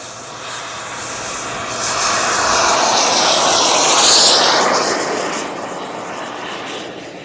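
A giant 3.4 m Global Jet Club Viper RC jet takes off in a crosswind at a Florida jet meet, its turbine roar swelling to a loud peak midway, then fading as it climbs away.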